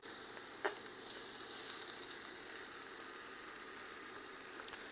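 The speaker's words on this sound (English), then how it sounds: "If you can hear it in there sizzling, that's what you want to hear if you're actually searing something." Steady, crackling sizzle of pork tenderloin searing in a hot pan, continuous and moderately close, with faint spatters and no talking.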